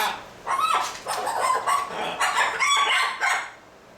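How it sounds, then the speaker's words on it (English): A pet bird squawks in a series of short, shrill calls, fairly close and loud, with brief pauses between bursts. "He's being a bad bird."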